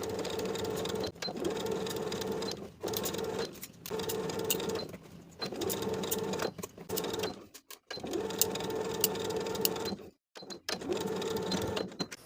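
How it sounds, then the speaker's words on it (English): A sewing machine straight-stitches an interfacing layer of a neckband to a neckline on an athletic top, running in close, loud bursts of rapid mechanical whirring separated by short stops. "Now we can sew this interface layer of neckband to the neckline with a 3/8 inch seam allowance and a regular straight stitch."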